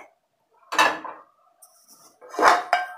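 Cleaned, well-worn frying pans handled in a home kitchen, giving two separate clattering bursts of metal knocking against metal, close and fairly loud, with quiet gaps between them and no talking.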